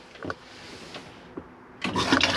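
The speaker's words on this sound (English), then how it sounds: "To operate your toilet, ensure the pump's on, and what you'll be able to do is press the blue button on the back here," A Rollerteam T Line 740 motorhome toilet runs its pump-fed freshwater flush, a sudden loud rush of water after a few faint clicks and thumps from the button.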